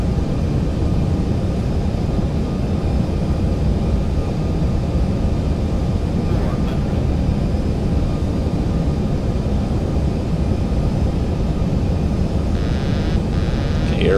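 A ZIBO 737-800 airliner on landing approach in X-Plane 11, with a loud, steady, broadband engine and airflow roar that continues without a break.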